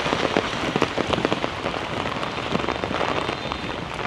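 Rain falls steadily on hard surfaces in Hanoi after Typhoon Yagi, a dense, loud patter of close drips and splashes with sharper individual drops throughout, and no talking.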